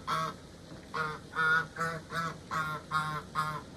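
A goose honks outdoors in a steady series of about eight nasal calls, moderately loud and fairly close, with no talking over them.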